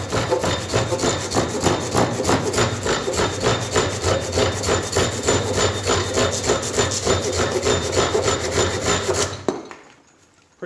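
A Silky F180 bushcraft folding saw cutting through wood in fast, steady rasping strokes, loud and close, continuing for about nine seconds before stopping abruptly into near silence.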